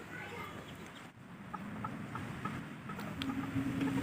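Chickens on a farm sick with CRD respiratory disease make scattered clucks and raspy noises over a steady murmuring background.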